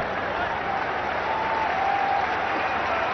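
Cricket crowd at a 2003 TVS Cup one-day match between Australia and New Zealand in Faridabad applauding a fielding play, a steady, dense wash of clapping and crowd noise that holds evenly for about three seconds.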